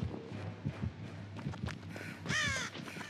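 A crow caws loudly in the horror video game Dead by Daylight, a harsh call near the end over soft footsteps and ambient game noise, no talking.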